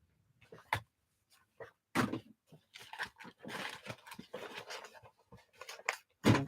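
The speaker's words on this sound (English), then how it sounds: "I'm going to have to resort to digging in my drawers." Rummaging through cluttered household drawers: scattered clunks, knocks and rustles of shifted items come in irregular bursts with short pauses, close by.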